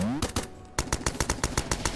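Grenade-launcher fire in the video game Starbound comes as a rapid, evenly spaced run of sharp, punchy shots, loud and close, with a brief gap before the volley resumes.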